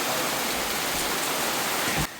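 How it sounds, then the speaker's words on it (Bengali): Heavy rain pours in the Sundarbans mangrove forest as a dense, steady hiss close by, with no voices, until it cuts off abruptly near the end. "বৃষ্টি হচ্ছে সুন্দরবনে।"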